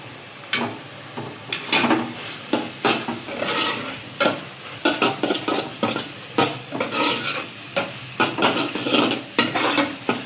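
Keema fry being stirred in a pan after two spoons of chili powder are added, with repeated scraping strokes and clinks of the spoon over a steady sizzle, close and fairly loud, no talk.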